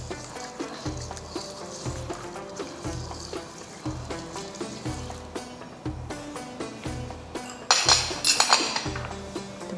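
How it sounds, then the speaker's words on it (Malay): A spoon stirs a coconut milk and rice mixture in a pot for nasi dagang, making regular rhythmic clinks and scrapes against the metal, with a louder, busier burst of clatter near the end. "Okey, kita kacau dia"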